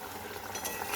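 Potatoes gently stirred in a pan, a soft continuous scraping and faint clinking of a utensil against the pan over a low sizzle, close and quiet, with no voices.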